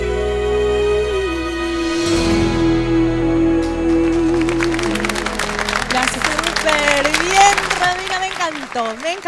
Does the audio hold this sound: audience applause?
yes